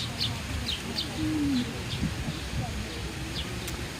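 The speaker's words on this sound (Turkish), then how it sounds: "Doldu geldi serçeler, güvercinler." Pigeons and sparrows calling nearby: a few short sparrow chirps and a brief low pigeon coo, over a noisy outdoor village background with some talking.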